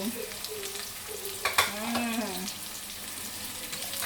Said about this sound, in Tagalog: we're going to saute this for about 2 minutes until ma-translucent ang appearance sa ato ang onion